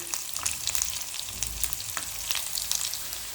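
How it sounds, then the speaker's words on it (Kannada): Onions fry in oil in a pan over a high gas-stove flame, giving a close, continuous crackling sizzle with small irregular pops and spits throughout, and no talking. "ನೋಡಿ ಈಗ ಈರುಳ್ಳಿ ಕೂಡ ಕಾಯ್ತಾ ಬಂದು ಕಾಯಿತು ಚೆನ್ನಾಗೆ ಹುರಿದಾಯ್ತು"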